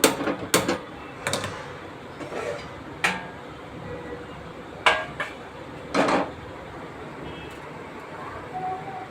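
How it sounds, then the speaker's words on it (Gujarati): A metal kadai set down on a gas stove in a home kitchen while making potato, onion and chili bhajiya, heard as a few sharp clanks and knocks spread out over a quiet background. "હવે આપણે ગેસ ચાલુ કરીશું, કઢાઈ મૂકશું"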